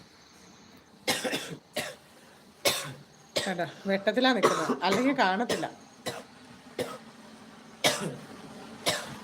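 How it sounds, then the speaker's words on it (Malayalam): Several harsh, bursting coughs come one after another at close range, broken up by a person speaking in between. "അവിടെ ഇരുന്ന് നല്ല ചുമയാണ്"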